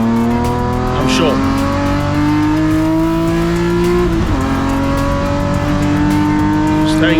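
BMW race cars accelerate on the Zwartkops track, with loud, steady engine drones climbing in pitch as gears shift, close and continuous, while a commentator talks over them.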